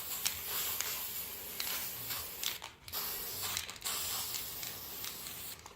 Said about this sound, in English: So then I can pick up the can and give this a spray.